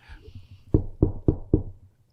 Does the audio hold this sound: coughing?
no